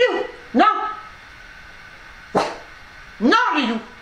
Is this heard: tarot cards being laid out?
no